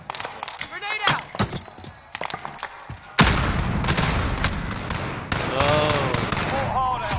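A grenade blast and gunfire in the Call of Duty Warzone battle royale game: an abrupt loud burst that turns into sustained explosive noise. Earlier shots are scattered, and players talk over and between the sounds.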